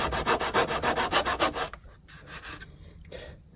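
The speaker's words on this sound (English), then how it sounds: "I'll finish it off with my sanding wheel." A sanding wheel abrades the wooden deck of a 1:84 scale ship model, a close, rapid rhythmic rasping for under two seconds, followed by quieter intermittent rubbing.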